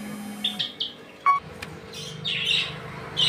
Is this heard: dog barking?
no